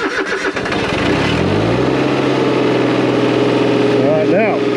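An old tractor engine cranks with a rapid chugging, catches and settles into a loud, steady idle close by, and the revs rise briefly near the end.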